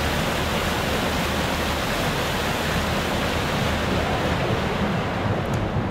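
Rushing water pours continuously in the Firmament video game, a loud, steady broadband wash like a torrent or waterfall, unbroken from start to finish with no voices over it.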